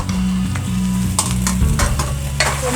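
Radish and green capsicum sautéing in a pan for sambar, a loud close sizzle with a run of scraping stirs and clinks from a spoon against the pan, no one talking.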